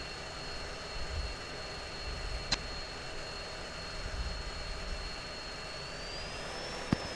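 A military jet taxies on the ground with a steady, distant engine whine and a thin high tone held throughout, plus two sharp brief clicks, with no voices.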